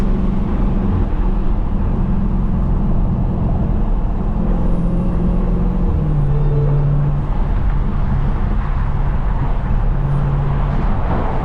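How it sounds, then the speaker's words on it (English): A 640 hp Dodge Charger SRT Hellcat V8 cruises at night, a steady loud engine drone with low rumbling tones shifting in pitch over the drive. "This car sounds so nice"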